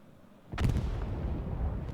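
A heavy artillery or bombing-run explosion in the World War II shooter Hell Let Loose erupts after a brief quiet and rolls on as a loud, booming rumble.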